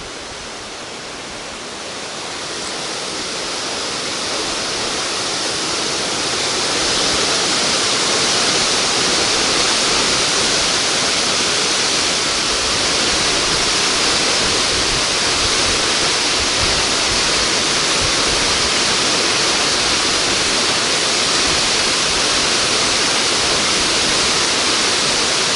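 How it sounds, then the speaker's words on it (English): Small waterfall beside the road near Valdez, Alaska, a broad steady roar of rushing water that builds over the first few seconds and then holds loud and even, with no voices. "Got a little waterfall off to the right there,"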